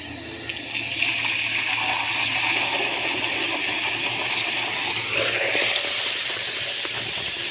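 Water gushing from a pipe into an orchard channel at reduced flow speed, a steady loud rushing flow that runs throughout, close by, with a brief shift in tone midway.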